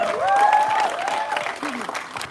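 An audience claps for a guest at a Kerala press meet for the film Thug Life, steady applause filling the hall while an amplified voice carries over it.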